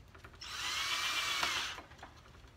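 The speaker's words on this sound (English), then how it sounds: "I'm going to use it to pre-drill my holes here." Power drill pre-drilling a hole in a wooden box, a single steady whir of just over a second that starts and stops cleanly, close and clear with no talk.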